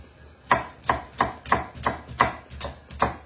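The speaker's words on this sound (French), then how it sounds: "On va profiter pour hacher la dernière oignon." A knife chops an onion on a board with about eight steady, evenly spaced thuds, close and distinct with no talk.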